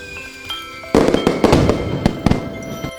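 Fireworks burst in a rapid volley of sharp cracks and booms over a steady crackling background, loud and continuous near the end.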